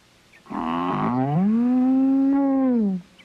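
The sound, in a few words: cartoon cow mooing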